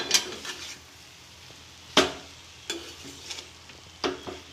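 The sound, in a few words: onions being stirred in a frying pan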